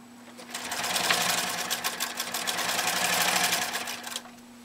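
A 1930 Singer 99K-13 sewing machine stitching through ten layers of canvas binding tape, a rapid rhythmic clatter that swells and eases over a few seconds, close and clear.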